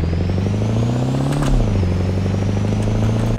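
A heavy Chevrolet Silverado pickup engine in a video game drones and climbs in pitch as it accelerates, easing off briefly midway before settling into a steady, loud rumble.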